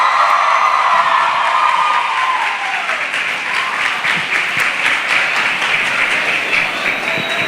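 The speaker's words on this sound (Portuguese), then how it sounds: "Uma salva de palmas, galera!" An audience bursts into loud, sustained applause with scattered cheers and whoops at the opening of a live mathematics show.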